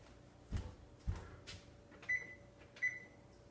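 Kitchen oven being set to preheat to 350 degrees: a few soft thumps and taps of button presses followed by two short electronic beeps, quiet and close, with no talk.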